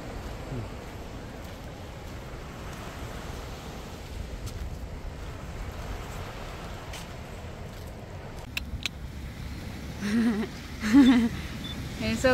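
Steady wind and surf roar at the Norah Head beach boat ramp, a constant broadband wash with gusty buffeting, and brief voices near the end.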